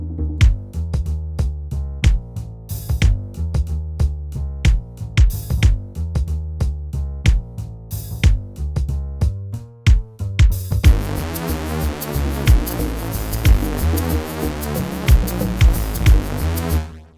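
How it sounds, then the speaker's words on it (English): A drum mix played back in Reason: punchy kick, snare and hi-hat hits in a steady groove, with dense cymbals and fuller crashes filling in during the second half, with no voices. "So let's just play this back and hear the drums."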